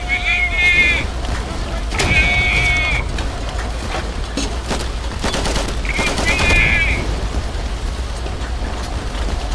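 Short bursts of machine-gun fire in the video game Easy Red 2 crackle at intervals over a steady engine-like rumble, while a person talks over them.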